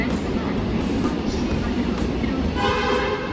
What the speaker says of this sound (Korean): 잠시 기다리니 오늘 탑승할 수서행 열차가 들어오는데